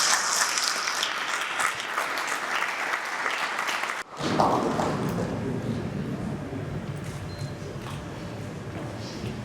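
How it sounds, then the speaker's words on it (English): A crowd applauds at a film premiere event, with dense, even clapping that briefly drops at a sharp break partway through and then carries on at a similar level. "Ladies and gentlemen, a round of applause, please."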